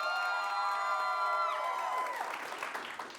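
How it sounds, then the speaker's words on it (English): A live improv comedy audience cheers with rising whoops and shouts, then bursts into scattered clapping as the cheers fade, all loud and close in a small venue. "I want you to clap at that level 5 loudness for the directors that you want to see their movies continue"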